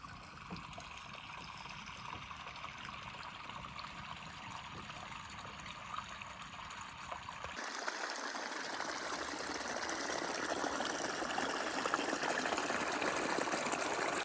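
Drained puddle water flowing down a ditch in the woods, a steady gushing trickle that grows fuller and louder partway through and keeps running, close by and without talk.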